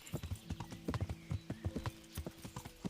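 Horse galloping in the video game Kingdom Come: Deliverance, a quick steady run of hoof clip-clops with a rolling rhythm over three seconds, fairly faint, with no voices.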